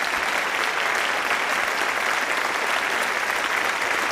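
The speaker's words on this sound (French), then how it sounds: "une salve d'applaudissements" Steady, dense applause from an audience welcoming a guest at a French cultural-data event, a continuous even wash of clapping with no pauses, loud and close throughout.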